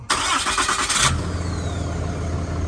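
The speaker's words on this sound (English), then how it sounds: "That will remote start the truck." A Ram 2500 pickup truck starts by remote starter: a sharp cranking burst for about a second, then the engine settles into a steady low idle, heard up close with no talking.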